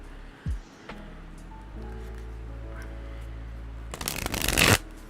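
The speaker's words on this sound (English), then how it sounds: "I'm just going to be shuffling a little bit here." Tarot cards being shuffled, with a soft background hum and then one close, loud burst of riffling cards near the end lasting under a second.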